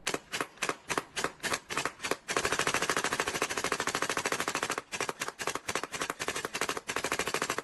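A P90 gel blaster toy gun fires gel balls up close: a run of single snapping shots, then long, rapid full-auto bursts broken by short pauses.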